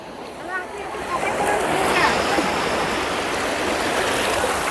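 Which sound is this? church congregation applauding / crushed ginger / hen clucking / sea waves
sea waves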